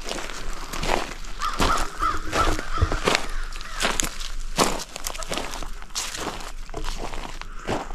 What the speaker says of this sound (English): Listen here, crows.